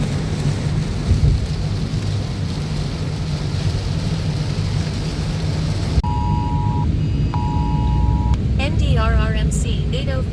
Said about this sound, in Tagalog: mas lalo pang lumakas ang ulan